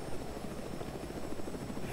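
Mi-8 helicopter in the video game Squad, a loud continuous rotor thump and engine roar filling the clip evenly from start to finish.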